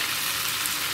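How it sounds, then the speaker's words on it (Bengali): Chicken pieces fry in a pan for a spiced chicken bhuna, giving a dense, even hiss of close sizzling that stays constant throughout this brief moment. "মুরগিটা দেখতে পাচ্ছেন আমার ভাজা ভাজা হয়ে গিয়েছে"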